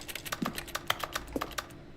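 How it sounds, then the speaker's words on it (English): Rapid clacking keystrokes from a van that works as a typewriter in The Stanley Parable, a steady close run of crisp taps with no talking. "I can type on the van."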